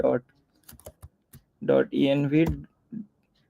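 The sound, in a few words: typing code on a computer keyboard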